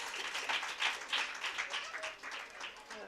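Audience applause at an International Women's Day gathering, a steady wash of many hands clapping at moderate distance, with a faint voice underneath.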